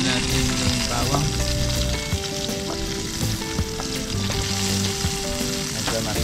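Garlic sizzles and spits in a hot frying pan, a dense steady crackle close by with some stirring, no voices over it.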